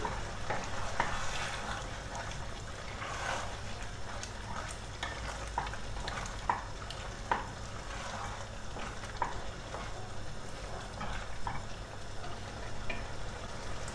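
Bulgarian mushroom pilaf frying in a pan as it is stirred, giving a dense, continuous sizzle with scattered utensil taps and scrapes throughout, close and fairly loud, no talking.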